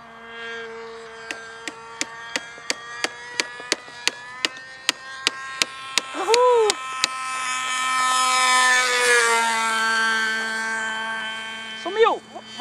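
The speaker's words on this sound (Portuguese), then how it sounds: "Quer ver um voo baixo, agressivo, muito louco." Model airplane engine making a low, aggressive pass at full throttle: a steady buzzing drone with rising and falling pitch as it sweeps close by, punctuated by sharp rhythmic clicks early on.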